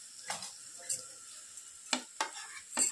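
Ground spices, turmeric, garam masala, coriander powder, chili powder and salt, frying in a pan for a homemade paneer paratha filling, with soft sizzling and several sharp scrapes and taps of a spoon as the mixture is stirred close up.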